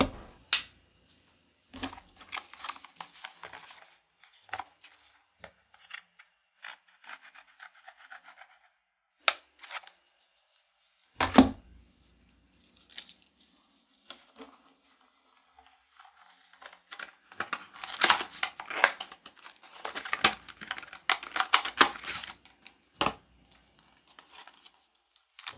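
Plastic clamshell packaging around a Crucial MX500 500GB SATA SSD being opened up close: scattered crinkles, rubs and sharp snaps, growing busier and louder toward the end, with no one talking.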